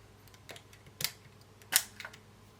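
Lever on the back door of a Canon 7 rangefinder camera pulled open: a few crisp, close mechanical clicks and snaps, with two sharper latch clacks standing out in a quiet room, no talking.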